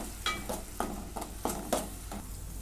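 Masala for masala vangi (spiced brinjal) being sautéed in a pan: a steady sizzle broken by rhythmic scraping strokes of a spatula, about six or seven, close and moderately loud.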